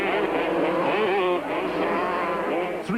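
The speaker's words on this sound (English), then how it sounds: "Three Kawasaki's and three Hondas make up the top six as Topless maintains his lead over Pienaar, Julian, Gray, Fourie and Cowle" Kawasaki and Honda racing motorcycles scream past at close range during a 1997 Super Series race. Their engine notes rise and fall in pitch as they pass, with faint commentary underneath.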